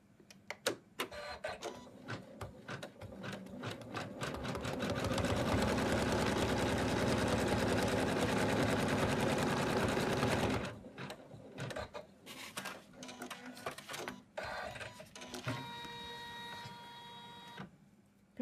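An embroidery machine stitches a placement line on an in-the-hoop snowman stocking, its fast mechanical needle rattle building to a loud steady run for several seconds, then stopping and giving way to sparse clicks and short bursts.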